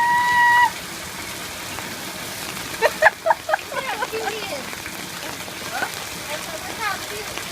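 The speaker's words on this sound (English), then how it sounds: "So much rain!" Heavy rain pours down steadily outdoors, a dense continuous hiss, while a voice speaks loudly over it and a brief tone sounds at the start.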